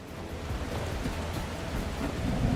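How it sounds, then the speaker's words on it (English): Steady rain falls in the video game The Last Caretaker, a continuous hissing patter on surfaces with a low rumbling undertone, even and unbroken throughout, with no voices. "Oh, of course it's bloody raining."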